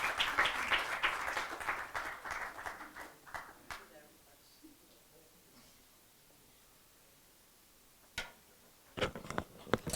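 Audience applause at an interfaith session of a global peace convention, welcoming a young woman from the Mindanao Peace Initiative; moderate clapping fades within a few seconds, then a pause with scattered faint knocks and taps.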